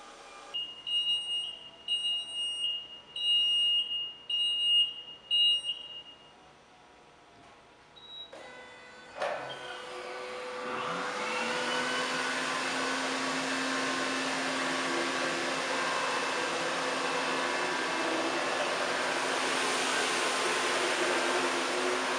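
A Hurricane 900 XTT 28-inch floor scrubber starts after a few electronic beeps, then runs with a steady, loud motor hum and whir as it drives forward.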